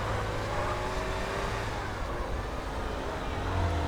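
A fairly fast car drives in Grand Theft Auto: San Andreas, with a continuous engine hum and road noise rising and falling slightly as it speeds along, steady and moderately loud.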